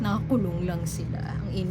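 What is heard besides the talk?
No distinct noise like a dog, phone or traffic.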